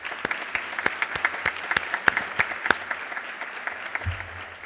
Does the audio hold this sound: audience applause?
yes